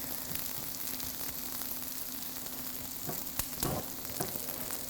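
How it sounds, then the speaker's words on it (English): Pumpkin spice pancakes sizzle in a pan on a stove at medium-high heat, a steady close crackling hiss with a few small pops and no voices. "if you've seen my other pancake episodes, you can see the sizzling"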